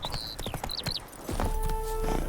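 Hooves of Roach, Geralt's horse in The Witcher 3, clip-clop in a quick uneven walk up close, mixed with birdsong early on and a low ambient hum joining later.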